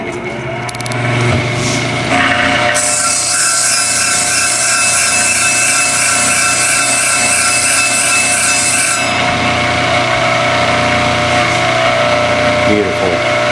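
A dog grooming clipper blade is sharpened on a motorized grinding setup: a loud, steady whirring hum with a harsh grinding rasp that starts after a couple of seconds and holds constant, then eases back near the end.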